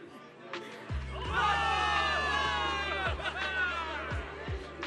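Soldiers in the video game Zenless Zone Zero cheer as a crowd, a loud swelling roar with shouted voices that holds steady for several seconds over low rumbling and a few heavy thuds.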